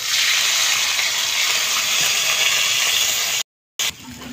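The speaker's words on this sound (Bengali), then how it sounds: "এর মধ্যে অল্প করে পানি দেবো" A little water poured onto onion, bay leaf, cumin, cinnamon and cardamom frying in hot oil sets off a loud continuous hiss that steadies and then cuts out abruptly near the end.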